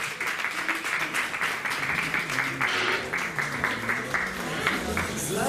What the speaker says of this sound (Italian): bel applauso alle nostre due presentatrici